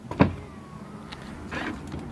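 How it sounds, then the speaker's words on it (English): The dihedral helix door of a 1500hp Koenigsegg Regera swivels open by remote, giving a short electric actuator whir, a brief pause, then a second softer motor hum nearby. "it's where the door kind of opens up like at a weird angle"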